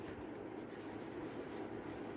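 A marker or chalk scratches across a board in a continuous, quiet stroke that stays faint and close throughout.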